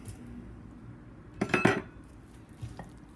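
Half a cup of corn goes into a bowl of cornmeal muffin batter, giving one brief burst of clinking and clattering against the bowl and a fainter knock afterward, heard close in a quiet kitchen.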